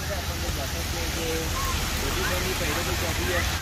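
Heavy rain pours down in Jhelum, Pakistan, in a steady, dense hiss that never lets up, with faint voices beneath it.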